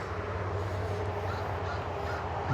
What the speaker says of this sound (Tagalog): yun may uwak lumilipad